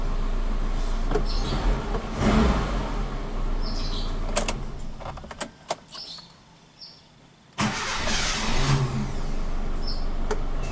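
A Suzuki Katana car idles at about 800 RPM with a steady low rumble, broken by clicks and a quieter gap partway through before the engine noise returns at full level.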